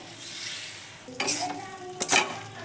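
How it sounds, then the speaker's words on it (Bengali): Water poured into a hot frying pan bursts into sizzling and bubbling after a quieter start, with a couple of sharp spatters and stirring clinks near the end. "এবার আমি এতে কিছুটা জল দিয়ে দিচ্ছি।"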